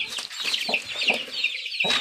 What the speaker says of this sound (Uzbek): Tovuqlar bemalol yeb tashyapti.